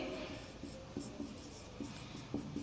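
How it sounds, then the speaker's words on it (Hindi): Pen scratching out an answer on paper, heard as a faint, steady scribble with soft strokes, close by and quiet, with no talk over it. "तो इसका उत्तर लिखते हैं श्री कृष्ण के"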